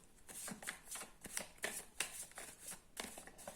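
Tarot cards are shuffled for a weekly card reading, a close, crisp riffling with repeated bursts of fluttering card edges, loud against a quiet room and with no voice present.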